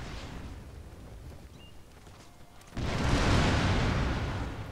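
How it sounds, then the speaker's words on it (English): Gunfire from a ranged unit volley in the samurai strategy game Shogun 2, a quiet rumbling bed that swells abruptly into a loud, dense crackling roar of massed shots for the last couple of seconds. "And they're shooting at me now."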